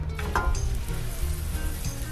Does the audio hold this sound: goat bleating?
no